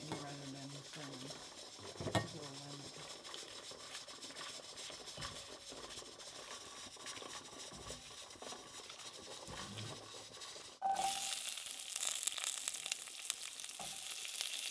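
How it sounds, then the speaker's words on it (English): Peppers, garlic and onion toast lightly in a pan with a soft, continuous sizzle, stirred now and then with faint clinks, and the frying grows brighter and louder toward the end. "We are lightly toasting the peppers and some garlic and some onion."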